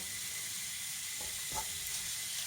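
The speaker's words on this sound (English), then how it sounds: "you can hear the turkey start to sizzle away" Turkey sizzles steadily in a hot wok, a constant bright hiss with a couple of faint scrapes partway through.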